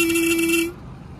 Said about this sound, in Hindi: चलो पहले आपको एक बार हॉर्न बजा कर दिखाता हूँ